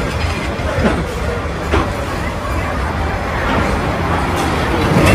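A train rumbling past in Hanoi, a loud continuous roar with faint rhythmic clatter, heard up close amid crowd chatter and voices.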